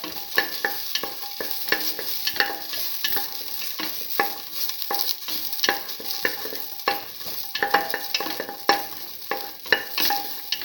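Ginger, garlic and shallots sautéed in a pan, a steady bright sizzle with frequent rhythmic scrapes and clinks of a spoon stirring against the pan, close and continuous with no talking.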